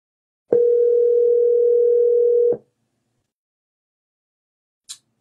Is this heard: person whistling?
no